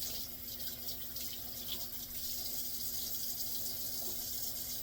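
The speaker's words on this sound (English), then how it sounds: "wash all my produce with the running sink water" A kitchen sink tap running at high force while fresh parsley is rinsed for tabouleh salad, a continuous close hiss and splash of water with no talk.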